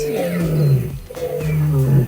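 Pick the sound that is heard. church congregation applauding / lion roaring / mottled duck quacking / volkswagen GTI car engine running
lion roaring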